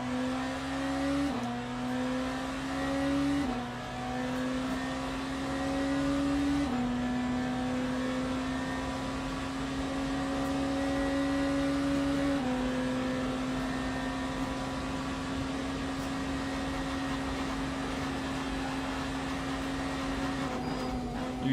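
Sim race car in Le Mans Ultimate droning at steady high revs, engine tone stepping through gear shifts, with faint scraping of the underbody bottoming out on the track mixed in beneath the engine.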